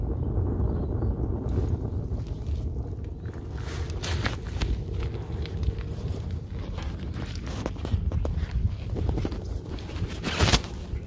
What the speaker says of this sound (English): the noise associated with what you're hearing is all of the activity from the gas being driven out of that inner chamber